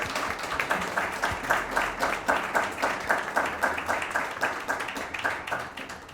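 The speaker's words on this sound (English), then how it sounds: "So if you could give our guests a round of applause" An audience at a tech founders panel applauds the guests, a dense, steady wash of clapping with rhythmic swells that fills the whole stretch before tapering slightly.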